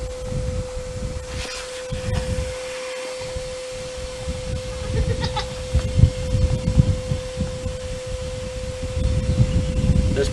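A shop vac running steadily while it pulls a line through a long underground pipe for camera wire, a constant droning hum with rumbling, fluctuating airflow, close and fairly loud throughout.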